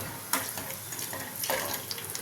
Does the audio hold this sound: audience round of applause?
no